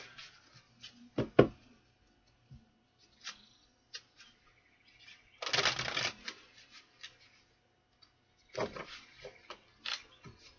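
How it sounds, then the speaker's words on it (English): A deck of cards is riffled and shuffled in several brisk bursts, with quiet taps and clicks between, close by and without speech. "One more shuffle here."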